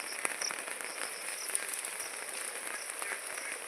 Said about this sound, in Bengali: পুরো নদী হয়ে গেছে, এত পরিমাণ বৃষ্টি